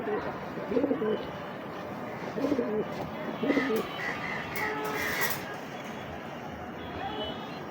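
Racing pigeons coo in a few soft, low bursts close by, repeating at intervals over a steady background hiss, with faint chirps toward the end.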